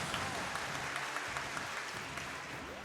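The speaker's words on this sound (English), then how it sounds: "Crowd absolutely on fire at the moment." A crowd applauding and cheering at a Super Smash Bros. grand finals, a dense, steady roar of clapping heard up close.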